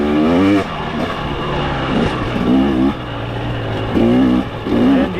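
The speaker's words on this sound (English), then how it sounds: "This in third gear, just off idle, hardly any throttle at all." A 2024 KTM TX300 two-stroke dirt bike runs in third gear just off idle with barely any throttle, a loud, close, burbling engine note that swells and dips in short pulses.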